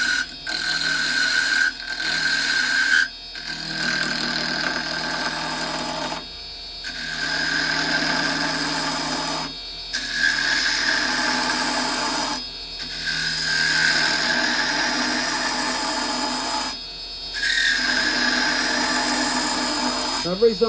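Wood spinning on a lathe while a clock is turned with carbide chisels, giving repeated bursts of scraping and rasping cutting separated by brief pauses, loud and close, with no voices during the cuts.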